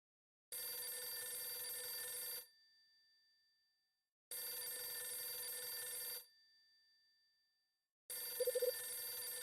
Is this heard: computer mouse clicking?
no